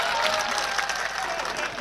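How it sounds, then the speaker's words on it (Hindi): Loud, dense applause from a crowd at a Hindi comic poetry gathering (hasya kavi sammelan), steady clapping throughout without a break. "एक बार जोरदार ताली बजाओ भाई के लिए"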